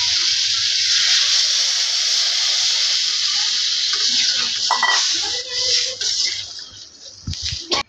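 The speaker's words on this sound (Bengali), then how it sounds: "কষানো হয়ে গেছে, এখন জলটা দিয়ে নিতেছি" Water being poured into a cooking curry, a loud continuous rushing hiss that holds steady for about five seconds, then breaks into splashing and bubbling with a few sharp knocks near the end.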